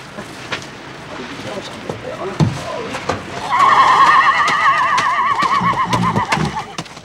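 A racehorse at a racecourse whinnies loudly for several seconds, a wavering high neigh rising over scattered hoof clatter and background murmuring voices.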